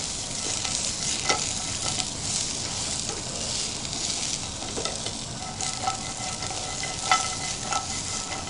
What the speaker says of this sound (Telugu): మీరు అలా వేయించేటప్పుడు అర్థమైపోతుంది మంచి క్రిస్పీగా వచ్చేసినాయి అవి.